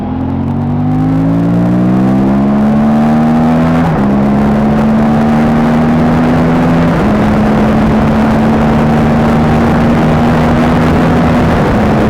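Aprilia RS457 motorcycle riding along a road in light traffic, its engine droning loud and close in steady harmonic tones that rise and shift with gear changes, with constant wind rush and no talking.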